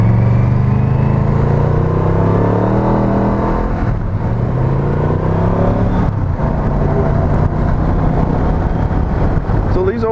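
A 1983 Yamaha Venture XVZ12 carbureted motorcycle engine running with the choke still on, a loud steady drone shifting pitch as it rides, mixed with heavy wind rush and some talking over it.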